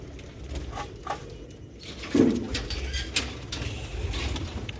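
Sialkoti pigeons coo in soft, low bursts close by, with a louder coo midway and faint fluttering and rustles around them, no talking.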